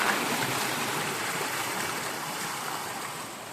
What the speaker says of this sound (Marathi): अरे पाणी चालू झालं भाई